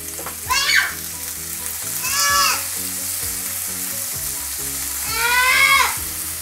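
Beef and ginger frying in a hot pan, a loud steady sizzle throughout with a few stirring scrapes and bursts of stronger crackle as the meat is moved.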